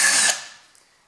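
Milwaukee M18 ONEDD cordless drill driver set to reverse with a bit fitted, giving a short close whir that cuts off after about a third of a second and fades out, no talking.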